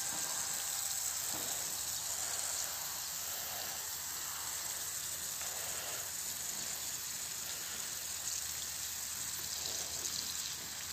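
Water gushes steadily from an Iraqi-made solar-powered submersible water pump running outdoors at partial power, a continuous hissing rush of moderate level with no talk over it.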